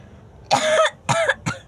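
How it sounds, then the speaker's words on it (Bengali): A small child who has been crying coughs three times in quick succession, a longer first cough followed by two shorter ones, close and clear. "ওই দেখ কাশি উঠে গেছে"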